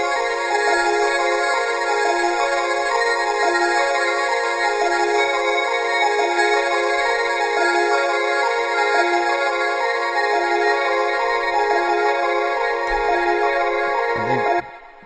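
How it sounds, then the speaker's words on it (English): Little chimes ring out bright and steady inside an electronic music track, a dense layered loop running continuously before cutting off abruptly near the end. "in these parts also there's some little chimes going on as well"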